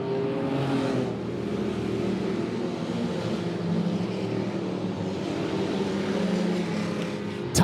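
A pack of stock cars roars around the oval at Monett Motor Speedway, a loud, sustained blend of engine drone that swells and fades slightly as the field passes, with no speech over it.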